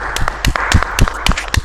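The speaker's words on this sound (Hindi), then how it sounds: "सारे लोग तालियां बजाकर इस अपना माइक ऑन करें और तालियां बजाएं।" Audience clapping over open microphones at an official Indian railway divisional event: a few scattered, uneven claps close to the mic, short and slightly muffled.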